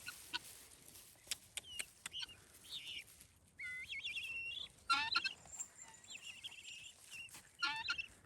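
Chickens clucking and a chick cheeping nearby, with scattered taps and rustles between the calls.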